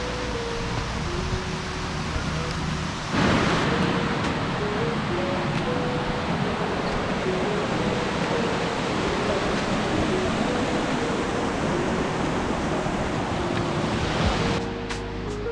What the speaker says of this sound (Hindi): ये देखो कितना वाटरफॉल हो रहा है।